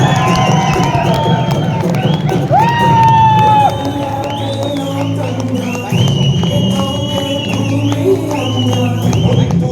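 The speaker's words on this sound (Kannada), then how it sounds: "ಎಲ್ಲರೂ ದೊಡ್ಡ ಚಪ್ಪಾಳೆ." Crowd at a direct-selling training session in a Bengaluru hotel hall cheering, whooping and shouting loudly alongside applause, a continuous roar with rising excited calls throughout.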